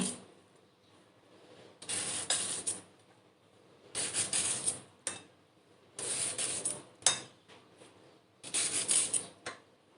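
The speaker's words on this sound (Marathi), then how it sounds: "आता आपल्याला काकडी सोलून घ्यायची आहे" A cucumber is peeled by hand while preparing a Konkan-style festive dish: four distinct bursts of close, crisp scraping strokes, each about a second long, separated by quieter pauses, with no talking.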